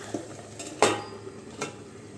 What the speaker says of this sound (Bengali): এবার সাথে সাথে ঢাকনাটা আমি দিয়ে দিলাম